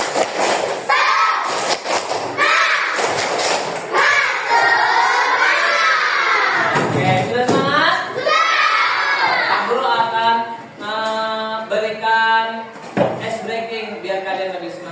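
A group of children claps in rhythm and chants loudly in unison, with sharp claps breaking through the lively, close-up chorus of voices.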